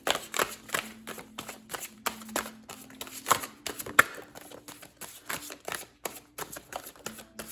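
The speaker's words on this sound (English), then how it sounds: "The beauty of these cards is that they're big and they take a while to shuffle sometimes" Large oracle cards are shuffled by hand in a long run of quick papery riffles and taps. The shuffling is steady, close and fairly soft, with no voices over it.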